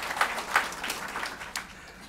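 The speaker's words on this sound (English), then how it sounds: "So let's give him some applause as well." An audience applauds at a book launch event, producing a short burst of scattered clapping with a few sharper individual claps, moderately distant and brief.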